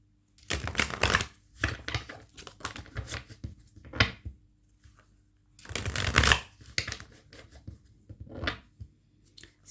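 Tarot cards shuffled and dealt out for a reading, two long bursts of riffling and sliding separated by shorter slaps and flicks of cards being laid down, close and fairly loud with no talking.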